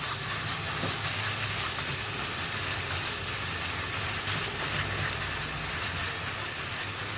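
A chicken mixture spread flat in a pan cooks over a small burner, giving a steady, even sizzle with a soft low rumble underneath and no pauses or voices.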